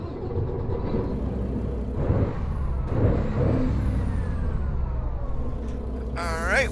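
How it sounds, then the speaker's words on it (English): A Mack truck's engine is fired up in American Truck Simulator, a low rumbling idle with a hiss of air brakes and faint tonal chirps, rising near the end. "We're going to get it fired up, get the truck on the road,"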